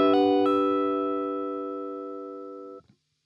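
A single guitar phrase built from quick hammer-ons and pull-offs in a gospel neo-soul flick, two fast plucked attacks at the start, then one sustained ringing chord that fades smoothly before being cut off.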